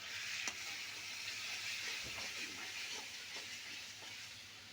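Spices with added garam masala are stirred in a cooking pan, a soft continuous sizzle with faint scraping strokes, quiet and without talk.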